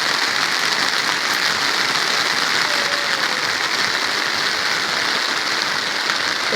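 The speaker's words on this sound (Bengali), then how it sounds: "এখন ছাদে এসে জালও ধরাইছি, বৃষ্টিও শুরু হয়ে গেছে।" Steady rain pours onto a rooftop in a dense, continuous hiss, loud and close, with no break or voices over it.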